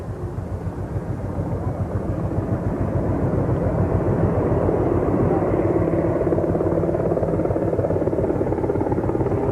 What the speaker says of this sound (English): There are 8 aircraft in all in today's flyover.